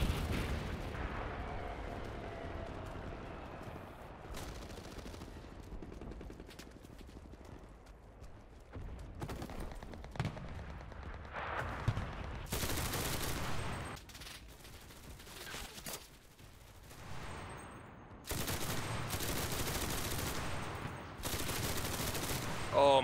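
Gunfire in the World War II shooter Enlisted with paratroopers, bursts of rapid shots and heavy blasts coming in clusters, some loud and close, others distant, over a busy battlefield background.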